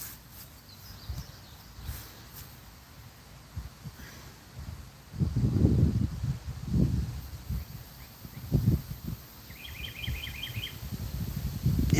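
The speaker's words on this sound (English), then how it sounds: "hearing the birds chirp." Small birds chirp faintly in short trills in the distance, with rustling and low thumping noises nearby.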